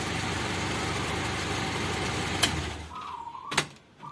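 A Daihatsu Espass engine idles with a steady low rumble for about three seconds, then cuts off, leaving a few sharp clicks and a faint fading hum.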